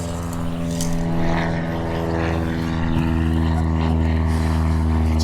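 A propeller airplane drones steadily overhead, loud and sustained throughout, its low hum constant with no pauses.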